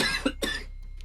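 Two quick, sharp coughs from a man, close and fairly quiet, followed by near silence.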